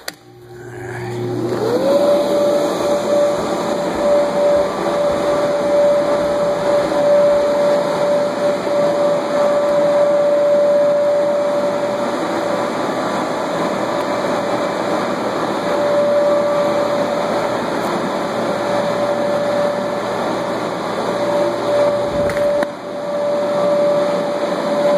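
Electric blower inflating a sand-weighted Mario mushroom bounce house, starting up and then holding a loud, steady whirring drone with a constant high whine, close and continuous before a brief dip near the end.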